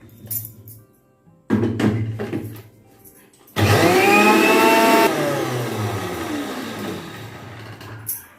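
A mixer grinder grinds curry leaves with black gram into powder. A short burst runs first, then a longer loud run whose whine sweeps up and down, trailing off with rattling and a slowing motor.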